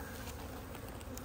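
Dense, steady buzzing of honey bees swarming around a freshly opened wooden hive, a close, continuous hum with individual bees zipping past, no voices.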